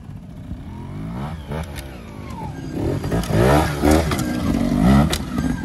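Trials motorcycle engine revving hard nearby, rising and falling in repeated throttle blips that grow louder toward the end, with no talk over it.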